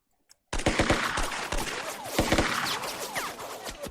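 Gunfire from the Lock N' Load Tactical war game: after a brief near-silence with one tiny tick, a loud, dense fusillade of rapid machine-gun bursts erupts and continues without pause, with no talking.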